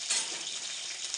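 Curry leaves frying in hot tempering oil with mustard and other seasoning seeds, a steady bright hiss and sizzle at close range, fairly quiet and even throughout.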